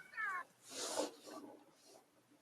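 A cat meowing indoors, a short tonal mew at the start followed by breathy, hissy vocal sounds and softer noises, close and moderately quiet.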